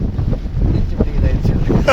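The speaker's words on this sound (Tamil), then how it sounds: "அகஸ்தியர் மலை டாப்பில் அடித்த காற்றோட வேகத்தை எங்களால் எப்படி வர்ணிக்கன்னு தெரியல" A strong gust roars across the summit of Agasthiyar mountain, buffeting the microphone with a loud, continuous low rumble and flutter for a couple of seconds.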